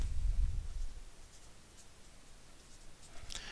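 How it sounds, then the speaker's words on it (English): Pens or pencils scratch on paper as students write in notebooks during a classroom math lesson, giving faint, continuous scratching over low room rumble, with a few brief scrapes and no talking. "I want everybody to write this in their notebooks"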